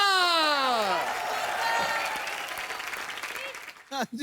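An audience breaks into sustained applause, a dense wash of clapping, while a voice with falling, whooping pitch rises over it at the start.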